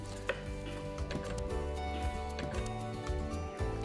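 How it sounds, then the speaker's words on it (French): Garlic being chopped with a knife on a board, a quick, irregular series of close, crisp knocks and taps with no talking. "On va mettre l'ail que l'on va couper."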